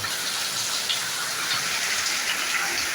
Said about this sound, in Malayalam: കണ്ടോ നല്ല കിടിലം മഴയാണ് പെയ്യുന്നത്